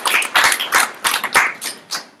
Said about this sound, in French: Merci Marion, on peut l'applaudir.